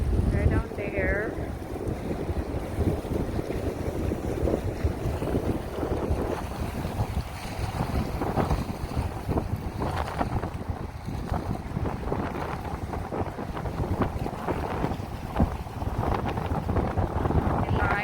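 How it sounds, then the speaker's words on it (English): Strong wind blows by the sea in bad weather with heavy waves, a loud continuous roar buffeting the microphone over the whole stretch, with surf underneath. "They are inland right now because there's bad weather, too heavy the wind."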